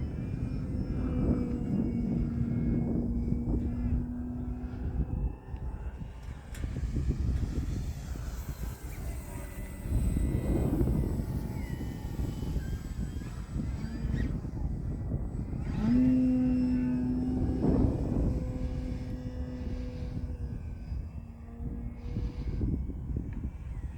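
A Flex Innovations Mamba 60E electric RC model airplane whines steadily overhead, its pitch rising and falling as it climbs, loops and dives, with no talking.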